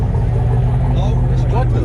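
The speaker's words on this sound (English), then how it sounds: "Rev it." A 2019 six-speed car's engine rumbles loudly and steadily at a car meet, with people talking and exclaiming over the low drone.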